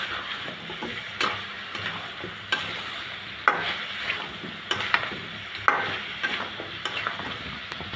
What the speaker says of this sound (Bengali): নাড়াচাড়া করে ভাজতে লাল লাল করে ফেলবেন।